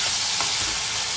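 Raw banana stir-fry with turmeric is stirred in a hot pan, giving a loud, dense, continuous sizzle and hiss with a soft scrape of mixing, brief and close.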